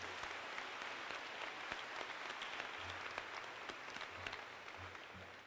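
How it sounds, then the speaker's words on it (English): An audience at an 8th-grade middle school graduation ceremony applauds a retiring school superintendent: dense, continuous clapping from many hands that sounds somewhat distant and holds steady throughout, with a low hum underneath. "Let's have a round of applause and wish him luck."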